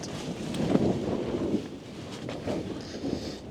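Gusty wind pushes against a Nortent Ly 1 tent at a wild camp, a low rushing buffet that swells and eases, with faint fabric rustles and no talk.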